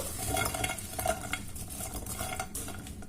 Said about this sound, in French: Je vais mettre mes fèves dedans.